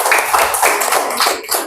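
Audience applause for a presenting group in a classroom, a steady, dense patter of many hands clapping close by for under two seconds, with no voices over it.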